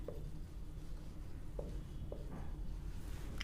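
Pen strokes scratch softly across paper while a math solution is written out, a few faint brief scrapes spaced irregularly under a low background hum.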